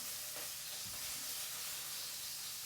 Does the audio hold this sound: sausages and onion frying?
yes